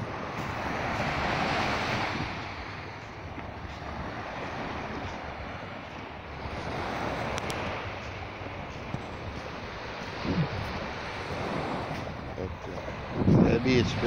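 Waves wash steadily onto a beach amid wind buffeting the microphone, a continuous broad surf roar with gentle swells, while a person talks intermittently over it.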